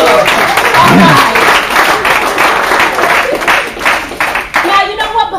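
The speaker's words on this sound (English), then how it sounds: "So give yourselves a round of applause," A lecture-room audience at a university talk claps loudly, a dense round of applause with some voices mixed in that thins out toward the end.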